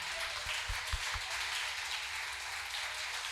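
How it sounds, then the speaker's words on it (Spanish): Applause from a church congregation during a pastor's sermon, a steady wash of clapping with a few louder claps near the start, fairly soft and continuous throughout. "Dale un aplauso."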